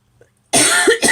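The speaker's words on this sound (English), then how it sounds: "I always start coughing for some reason" A single person's harsh cough bursts out after a near-silent moment, loud and close, with a second shorter cough or throat-clearing right behind it, during a crafting session tracing designs on a Cameo cutting machine.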